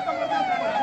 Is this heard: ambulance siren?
yes